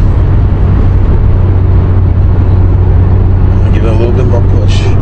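2013 Hyundai Genesis Coupe sports car engine, heard from inside the cabin as a loud, steady drone that swells slightly toward the end, with a brief low voice near the close.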